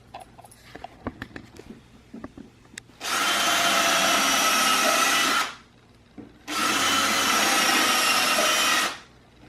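A power drill runs on wood while a coffee table is built. Two sustained whirring bursts of about two to three seconds each, loud and close, follow a few light clicks and knocks.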